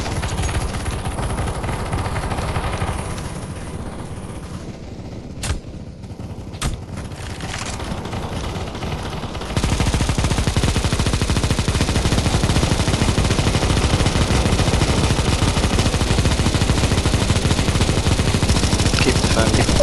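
Gunfire on a CS:GO zombie escape mod map, with a few isolated shots early and then a dense, loud, continuous stream of rapid automatic fire lasting about ten seconds.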